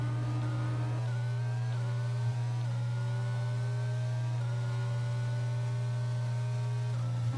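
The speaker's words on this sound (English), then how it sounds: "And here's the sound of the F1 car." Formula One car engine in Gran Turismo 7, a constant loud buzzing drone whose pitch climbs repeatedly through quick upshifts, heard close and alone with no talk over it.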